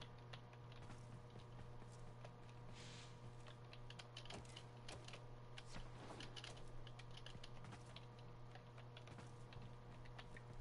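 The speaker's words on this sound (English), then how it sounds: "I'm doing this on the keyboard right now" Rapid, irregular clicks of computer keyboard typing during a Warframe gaming session, faint and continuous over a steady low electrical hum.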